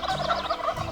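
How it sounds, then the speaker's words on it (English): A wild turkey gobbles once in a rapid rattling burst, a near and clear call with warbling pulses, heard alone outdoors in Colorado. "A shock gobble is when a turkey gobbles in response to a loud noise"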